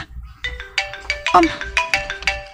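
A cellphone ringtone plays clearly and loudly as a bright, repeating electronic tune with a steady pulsing beat, with no talking over it.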